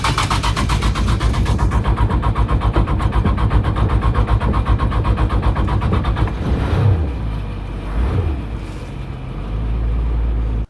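1966 Dodge A100 van with a stock Slant 6 225 cubic inch engine running, a steady rhythmic mid-pitched idle chug that softens and settles partway through, heard close and alone.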